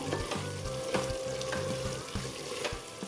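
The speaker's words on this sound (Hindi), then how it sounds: "मसालों को अच्छे से मिला लेने के बाद अब हम इसे पाँच से सात मिनट तक फ्राई करेंगे" Spice mix of turmeric and coriander powder for chicken curry frying in a cooker over a low flame, a steady close sizzle with soft scraping stirs, no talking.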